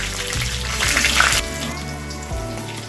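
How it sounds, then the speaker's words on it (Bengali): Cumin seeds and green chillies fry in a pan as a tempering, giving a steady sizzle with a brighter hissing burst midway, then settling back to a lower crackle. "ফোড়নটা প্রায় ভাজা হয়ে এসেছে"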